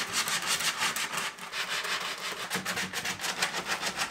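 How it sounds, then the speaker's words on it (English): Rough wooden edges on a truck bed camper build are sanded by hand in quick, rhythmic back-and-forth scrubbing strokes, close and clear with no voices. "the way you go about doing that is just sand like crazy."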